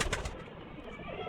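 A pigeon kept by a pigeon fancier, a few soft bird calls or wing flutters at the start, then faint low background hum, quiet and close.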